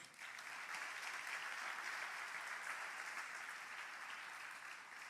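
Church congregation applauding during a sermon, a dense, even wash of many hands clapping that holds steady and fades slightly at the end, faint and distant, with no voices.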